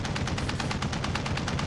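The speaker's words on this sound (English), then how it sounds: "that turret system I chucked on it is still going as well" An automated turret system in Call of Duty Warzone fires a rapid, steady stream of shots, evenly spaced bursts rattling continuously at moderate distance without any talk.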